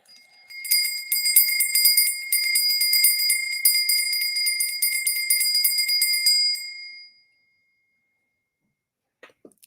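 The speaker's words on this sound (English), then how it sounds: "oh, you want me to ring the bell?" A bell rung rapidly and continuously, bright metallic strikes tumbling over one another for about six seconds, close and loud, then cut off into near silence.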